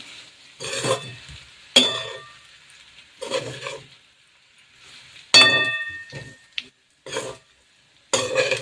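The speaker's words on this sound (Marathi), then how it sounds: "आता त्याच्यामध्ये कोथिंबीर ॲड करायची परत मिक्स करून घेते मी" A spoon stirs rava vadi curry in a pan while fresh coriander is mixed in, giving short scraping strokes with clinks against the metal and a light sizzle between them, close and otherwise quiet.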